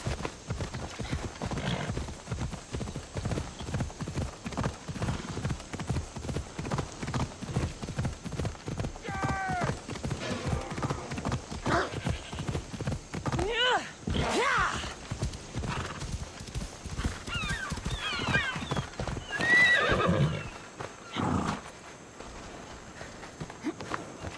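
Horse hooves clip-clop in a steady rapid rhythm with several neighs and whinnies in Assassin's Creed Odyssey, gameplay sounds continuing throughout and a voice speaking at moments.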